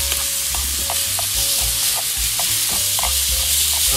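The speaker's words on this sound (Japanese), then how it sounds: "肉に火が通るまで焼きます。" Meat fries in a pan at a campsite, with a loud, steady sizzle and repeated stirring scrapes and taps throughout.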